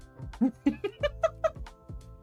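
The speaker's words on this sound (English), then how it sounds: "Your 18-year-old cat is also a big baby." An 18-year-old cat gives a quick run of short, close meows, about eight chirpy cries in a rhythmic string, clear with no talk over them.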